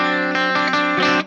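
Electric guitar played through the clean channel of a Peavey Triple XXX amp into its cabinet: sustained, ringing chords with rich harmonics, shifting every few beats and loud and close for just over a second.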